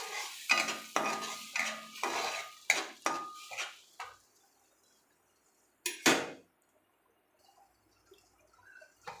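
Tomato puree fries in butter in a pan for paneer masala, stirred with a metal spoon. A run of loud, close clanks and scrapes, a pause, one more burst, then near quiet.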